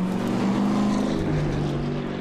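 A Corvette race car at Zolder in the 2006 Dutch Supercar Challenge drives into the pit lane, its engine giving a loud, steady low rumble that stays close throughout.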